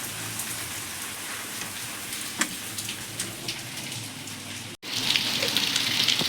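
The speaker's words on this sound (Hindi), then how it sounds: "कितनी तेज़ बारिश हो रही है।" Heavy rain pours down steadily as a dense, loud hiss with scattered droplet taps, briefly cut off for an instant before resuming even stronger.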